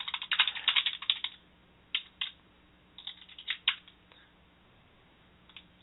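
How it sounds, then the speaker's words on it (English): A number is being typed on a computer keyboard: quick clusters of crisp, close key clicks, a dense burst at first, then sparser taps and short runs separated by brief pauses, over a faint steady hum. "I'm just typing the number in here."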